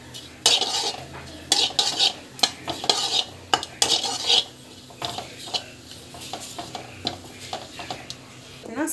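Puligore podi spices roasting in a pan are stirred with a metal spoon, producing repeated close scraping clinks and rattles in irregular bursts over a soft sizzle.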